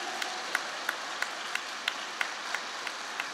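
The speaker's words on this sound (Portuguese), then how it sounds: "Aplauda ao Senhor, pelo amor de Deus." A church congregation claps along during a Catholic homily, giving evenly spaced, fairly faint claps in a steady rhythm over a soft background hiss.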